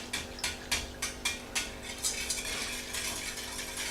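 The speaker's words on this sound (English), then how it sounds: "But I like to mix it with a whisk like this." A whisk beats a mixture in a bowl, making rapid rhythmic clinking strokes in repeated bursts, fairly close and moderately loud, with no talking.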